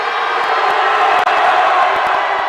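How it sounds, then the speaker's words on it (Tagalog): Loud, dense crowd of Apalit basketball fans cheering and whooping inside the BREN Convention hall during a Delta Cup game, a continuous roar with scattered shouts and claps throughout. "They're very noisy Apalit fans."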